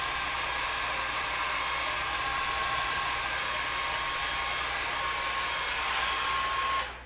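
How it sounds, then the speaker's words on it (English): A handheld blow dryer drying alcohol inks on Yupo paper gives a loud, steady, continuous whooshing whir that holds for several seconds before cutting off abruptly at the end. "your blow dryer will not melt but it will dry up the alcohol inks a little bit faster than just letting it air dry"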